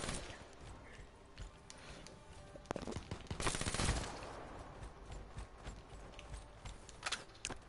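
Scattered video game gunshots crackle at moderate distance, with clusters of rapid shots and a denser burst of fire in the middle, over a busy background.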